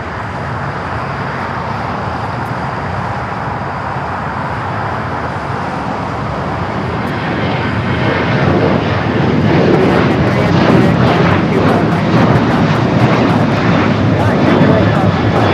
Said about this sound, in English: Next takeoff, flight headed to Indianapolis, Indiana. American Airlines flight 1899 at